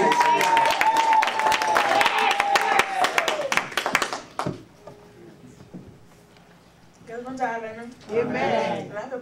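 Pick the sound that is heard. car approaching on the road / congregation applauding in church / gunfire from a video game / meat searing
congregation applauding in church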